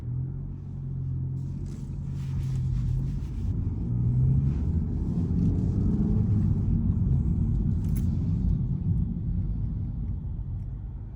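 A 2023 Honda Civic Si with a stock shifter on a riser pulls away from inside the cabin, its engine rumbling low and steady and rising gently as the car accelerates, with road noise beneath and no talking.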